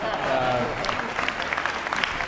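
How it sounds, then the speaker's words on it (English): Audience applause for honorees at a public conversation event, a steady burst of many hands clapping filling the room, loud and close, lasting a couple of seconds with faint voices beneath. "let us again give a big round of applause for our honorees"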